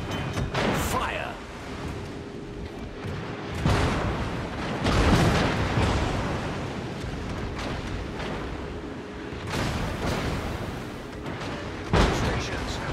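Warship artillery in the World of Warships naval game, heavy booming salvos that arrive in several loud bursts with rumbling tails over a constant engine drone, while a voice speaks in the background.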